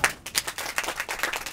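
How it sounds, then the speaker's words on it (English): A crowd of onlookers claps for a sheepdog at an Australian sheep herding demonstration, brisk irregular hand claps rising and falling over a second and a half with no talk. "Come on, give him a clap."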